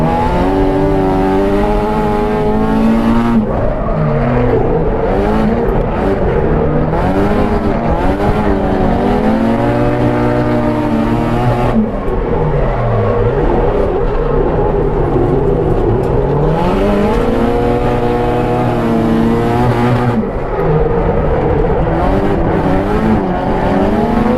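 Race cars run tandem drift laps, their engines loudly revving up and down in sweeping surges with some tire squeal, close and continuous, with no talking.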